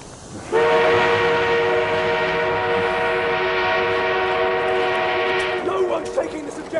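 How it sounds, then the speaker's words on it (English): Armored train in the video game Battlefield 1, a loud sustained horn-like drone held for several seconds, with battle noise and voices underneath that break up toward the end. "We have an armored train en route."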